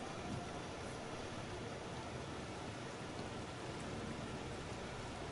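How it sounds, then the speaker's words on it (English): Steady rainfall in the hunting game theHunter: Call of the Wild makes a faint, even hiss of drops that holds unchanged throughout with no distinct splashes or thunder. "Oh yes, Lord, it's raining."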